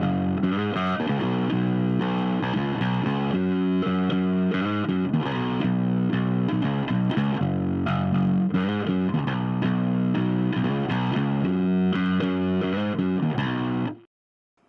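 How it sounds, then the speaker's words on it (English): Electric bass played through an Electro-Harmonix Battalion Nano preamp in input mode, with the EQ shaping the tone ahead of the distortion. A thick, gritty, sustained riff runs steadily and loud for about fourteen seconds, then cuts off abruptly. "Moving on to the input mode, the EQ falls first in a signal path, which allows you to shape your tone like a regular preamp"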